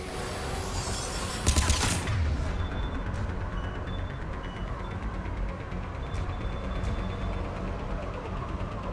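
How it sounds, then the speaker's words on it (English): Powerful turrets firing during a combat scene in the video game Mass Effect 3 Legendary Edition, a brief loud burst of rapid mechanical gunfire early on, then a steady dense wash of clattering battle noise and machinery. "Those turrets are crazy powerful."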